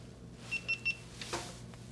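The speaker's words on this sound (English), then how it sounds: "You'll hear the beeping. It's not a smoke detector." A GoPro camera gives three quick, thin electronic beeps close by, followed by faint handling noise.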